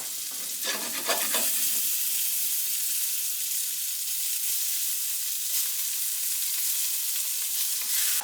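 Mushrooms frying in a pan as a garnish for tomato soup, a steady close sizzle with some stirring scrapes near the start, running continuously without speech.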